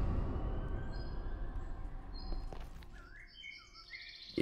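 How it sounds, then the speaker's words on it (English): Birds chirp in a Minecraft horror-mod world, with short high tweets and trills that rise and become clearer toward the end over a steady low rumbling ambience. "I hear these birds just chirping."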